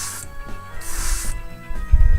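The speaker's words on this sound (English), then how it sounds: "I spray it at a little higher pressure than what's recommended on the bottle or for any Alclad paint" Airbrush sprays Alclad II gloss black base paint at fairly high pressure in two distinct hissing bursts, the second longer, close and fairly loud, with low handling noises between and after.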